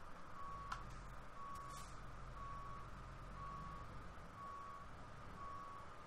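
Reversing beeps from a truck in American Truck Simulator, a regular series of evenly spaced electronic tones over a steady engine drone, with a couple of brief clunks early on.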